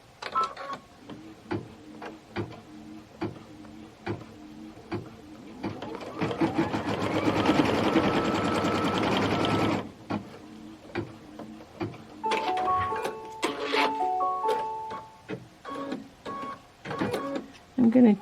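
An embroidery sewing machine stitches a trunk placement line, giving rapid ticking stitches with a dense whirring burst in the middle and some shorter runs toward the end, heard close up with some talking.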